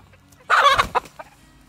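Chickens in a garden run give a short burst of clucking as they snatch up thrown Japanese beetles, followed by a couple of softer clucks, close and clear against a quiet background.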